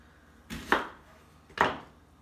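Two separate bursts of a hand-pulled food chopper finely mincing ingredients in a home kitchen, each a brief loud clattering rush of blades that fades off, with a pause between them.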